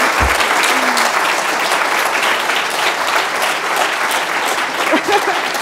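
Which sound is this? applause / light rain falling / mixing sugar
applause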